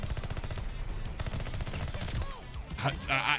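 Rapid automatic gunfire in the Call of Duty video game rattles in a dense, continuous burst, followed by a few sharper effect sounds toward the end.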